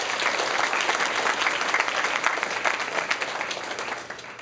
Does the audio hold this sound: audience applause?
yes